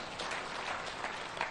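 A crowd at a thanksgiving ceremony applauds Faruk Kibet, a brief, steady wash of clapping heard from some distance.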